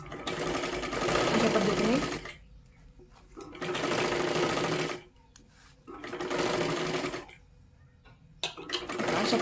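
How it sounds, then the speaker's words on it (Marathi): A sewing machine runs a double seam on a princess blouse in three loud bursts of rapid stitching, each about two seconds long, with short quiet pauses between them. A brief voice is heard near the end. "आता काय करा तुम्ही डबल शिलाई मारून घ्या"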